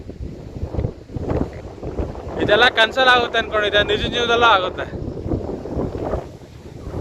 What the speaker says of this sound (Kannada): ಗಾಳಿಗೆ ನನ್ನ ವಾಯ್ಸ್ ಕೇಳಿಸ್ತಾ ಇದೆ ಇಲ್ಲ ಅಂತ ನಿಮ್ಗೆ ಗೊತ್ತಿಲ್ಲ. ಫುಲ್ ಹಂಗೆ ಹೊಡಿತಾ ಇದೆ, ಫುಲ್ಲು ಗಾಳಿ ಮಕ್ಕಕ್ಕೆ ಹೊಡಿತಾ ಇದೆ